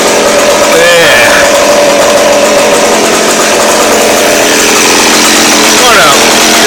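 McCulloch chainsaw runs loud and close, a steady buzzing whine that briefly sweeps up in pitch twice as the throttle is blipped, then holds near a fast idle.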